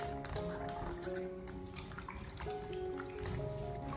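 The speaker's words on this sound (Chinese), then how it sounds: "用手将秋葵不停的搓洗一下，利用秋葵的摩擦力，将秋葵上面的绒毛和脏东西搓洗下来" Fresh okra is rubbed and scrubbed by hand in a bowl of water, giving soft, continuous sloshing, splashing and dripping sounds close up.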